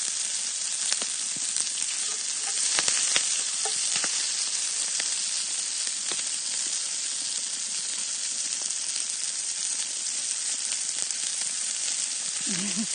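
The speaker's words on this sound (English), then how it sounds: "Yep, the sizzling sound is awesome." Onions and garlic sizzle steadily in a cast iron pan, a dense continuous frying hiss close by with occasional stirring clicks and brief crackles, no talk.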